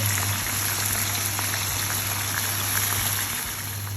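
Fish pieces fry in hot oil in a pan, a dense, steady, rain-like crackle and bubbling heard close up without pause.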